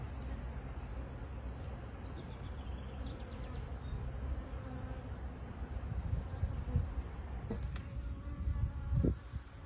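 Honey bees buzz steadily around a Kenyan top-bar hive, a continuous close hum with a few louder passes near the end.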